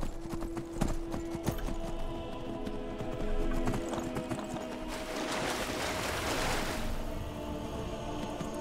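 A horse's hooves clip-clop in the video game Skyrim, a steady run of close hoofbeats under a faint tonal game ambience, shifting into splashy water noise from a river crossing partway through.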